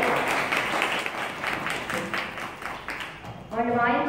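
Temple audience applauding at a veena recital with mridangam accompaniment, a crowd of hands clapping steadily before a voice cuts in at the end.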